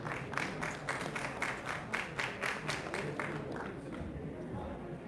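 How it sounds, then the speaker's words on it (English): Applause from an audience at a sports event with Shikhar Dhawan, a quick rhythmic clapping that fades after about three seconds into room murmur and chatter. "With a big round of applause, may I request Dr. Swaroop to come on stage and share a few words."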